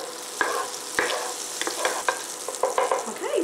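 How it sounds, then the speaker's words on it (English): Steady sizzling and crackling of meatballs frying in a pan, with scattered pops and scraping clicks throughout; no voices. "okay, it's got a nice sizzle going on in there."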